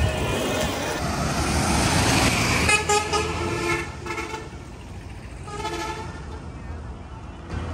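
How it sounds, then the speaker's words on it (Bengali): Busy roadside traffic with trucks and cars rumbling past close by, short horn toots sounding repeatedly over a continuous engine and road din. "গাড়ি চলতেছে, দেখতে পাচ্ছি"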